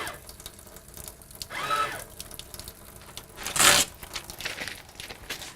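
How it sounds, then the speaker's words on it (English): A paper towel is pulled from a dispenser after handwashing: two brief tearing rustles, the second louder and sharper, over a quiet room background. "I will now come over and get the paper towel."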